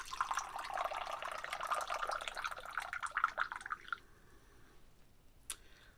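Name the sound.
rinse water being poured off tea leaves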